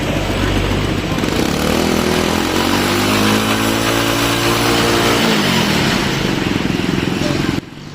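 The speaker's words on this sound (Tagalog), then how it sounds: "ipaparinig ko na sa inyo ang kanyang makina" A Choi Nori motorcycle engine runs after a tune-up, a loud, close, steady putter with a rising and falling rev in the middle before settling back to a rough idle, then cutting off abruptly.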